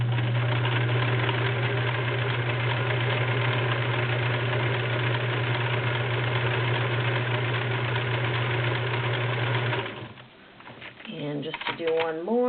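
A vintage 1941 Kenmore convertible sewing machine runs a stretch stitch with a steady, loud motor hum and rapid needle chatter for about ten seconds, then slows and stops as a voice comes in.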